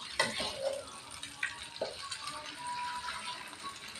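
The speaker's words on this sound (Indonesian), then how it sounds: "Diacak ya goreng telurnya ya" Eggs are stirred and scrambled in a frying pan while cooking fried rice with kencur spice, giving soft sizzling and a few sharp scraping clatters of a utensil against the pan, quiet and close.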